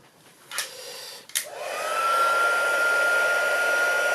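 An embossing heat tool, used for silver embossing on a butterfly craft project, clicks on with a couple of short bumps, then a steady blowing whir settles in with a rising whine and runs loud and constant, with no talk.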